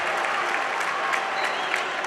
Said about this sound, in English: Letting the Louisville fans get something to cheer about